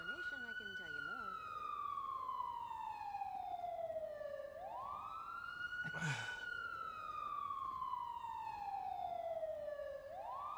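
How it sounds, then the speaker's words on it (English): Police car sirens in a GTA V roleplay game, a loud wailing siren sweeping slowly up and down over a low vehicle rumble, with a brief burst of another sound midway. "Perry, I hear ghost sirens from you."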